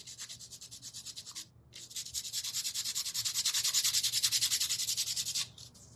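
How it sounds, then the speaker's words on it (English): Sheets of 800 grit sandpaper rub over dried dark paint lines on a bunny shelf in quick, even back-and-forth strokes. The close, rhythmic scratching pauses briefly, then resumes louder and faster before stopping. "I'm going to take an 800 grit, and these dark lines I'm just going to run my sandpaper over"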